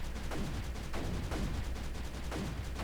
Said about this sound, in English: go ahead and bring up the mortar